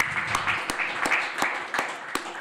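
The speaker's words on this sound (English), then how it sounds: "Big applause." Applause for the second jury member at a PhD school ceremony, a short burst of moderate clapping with a few sharp, distinct claps standing out over steady background patter.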